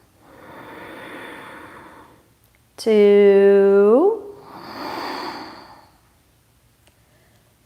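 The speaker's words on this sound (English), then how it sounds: "deep breathing with sound" Deep, audible breathing during an all-levels yoga session: a long, breathy inhale, then a brief voiced count over a steady tone, then a slow, soft exhale, close to the mic.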